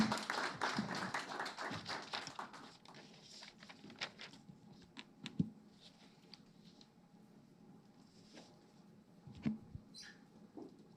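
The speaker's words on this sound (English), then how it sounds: "another round of applause for the representative of the governor" An audience at a World Consumer Rights Day 2022 ceremony in Rwanda applauds, starting as a dense burst of clapping that thins into scattered, fading individual claps, with a few sharper taps near the end.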